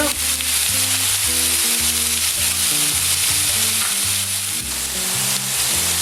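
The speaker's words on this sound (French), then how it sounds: "La viande elle est toujours en train de rissoler derrière moi" Beef pieces browning in a pan, a steady close sizzle running throughout alongside a strong low-pitched tonal drone, with no talking.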